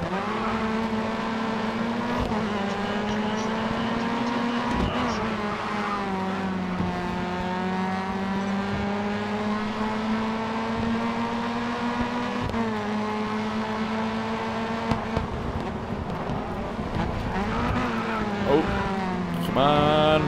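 A race car engine in GRID Autosport drones steadily at high revs throughout a touring-car race, its pitch rising and dipping with gear changes, loud and continuous with occasional tire noise.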